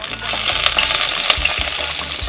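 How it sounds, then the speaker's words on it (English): Garlic and pepper frying hard in coconut oil in a Dutch pot, a loud, bright crackling sizzle with scattered pops and a couple of metallic clinks, no voices. "So I'm going to go in now with some garlic and some pepper,"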